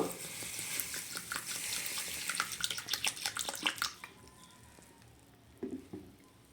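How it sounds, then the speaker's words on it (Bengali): Lentils (dal) being washed in water by hand in a home kitchen, with sloshing and dripping swishes for about four seconds, then quiet with a brief splash near the end. "এবার ডালটা আমি ধুয়ে নেব।"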